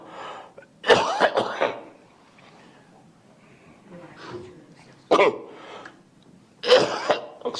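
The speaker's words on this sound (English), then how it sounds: "Excuse me, my coughing here." Someone coughs several times in a courtroom hearing, three separate harsh bursts with quiet between them, close and clear, with faint murmured talk in the gaps.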